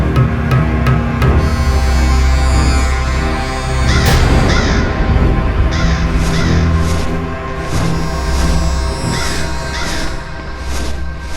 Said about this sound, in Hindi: खोदा पहाड़ और निकला कौआ